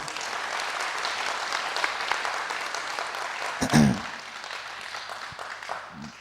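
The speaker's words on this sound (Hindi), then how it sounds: "भाई आप अपने लिए तालियां बजा दीजिए प्लीज़" Audience at a talk show in India applauding themselves, a steady spread of clapping across the hall that swells briefly near the end, with a voice rising just before it fades.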